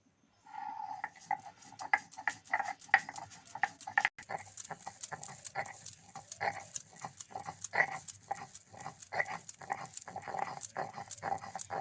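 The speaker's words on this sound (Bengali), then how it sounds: "এবার আমি এই ধনেপাতার সঙ্গে খুব ভালো করে বেটে নেব" Fresh coriander leaves are ground together with dry-roasted black cumin in steady, rhythmic back-and-forth strokes, each a short gritty scrape. The strokes are close and moderately loud, and no one speaks.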